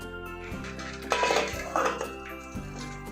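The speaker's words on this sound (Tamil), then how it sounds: "சாதம் வெந்துருச்சு, இப்போ நம்ம வடிச்சிடலாம்." Steel cooking pot of boiled rice being tipped to drain its water, with loud metallic clinks and clanks of the pot and lid over a short stretch, fairly close, with no talking.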